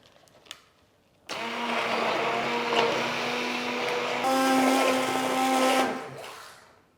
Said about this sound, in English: My soup is ready now and I'm going to blend it.